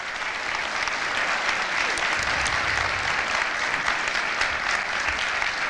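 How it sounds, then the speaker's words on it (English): An audience at a city all-candidates meeting applauds the mayoral candidates on stage, loud, dense and steady clapping from a packed room that holds evenly from start to finish without any talk. "Please, a big round of applause for everybody here."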